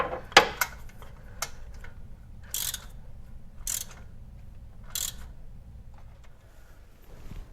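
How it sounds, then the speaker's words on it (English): A socket turns a spark plug hand-tight in the engine of a Porsche Cayman S 987, giving short bursts of ratcheting clicks spaced a second or so apart against a quiet garage background. "Now I'm going to take my socket, and I'm just going to make sure I have this hand tight."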